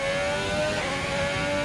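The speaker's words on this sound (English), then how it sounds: "He revved it out really high in second gear throughout that long sweeping left before he upshifted into third" A race car in an Xbox racing game at the Vietnam Grand Prix revs high in second gear, a steady, sustained engine whine holding constant pitch throughout, loud and continuous with no talk.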